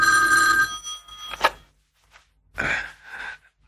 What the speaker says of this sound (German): Und da klingelt das Telefon.